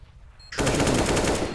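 AK-47 bursting in Counter-Strike on the Inferno map: after a quiet lead-in, a loud, sustained automatic volley of rapid, evenly spaced shots rattles close by until the end, with no talk over it.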